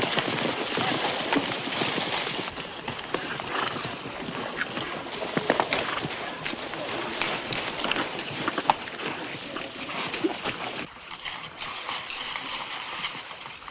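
Horse hooves clip-clop steadily in an outdoor western scene, a brisk run of close, sharp strikes over wind noise, with a few louder hits midway and no speech.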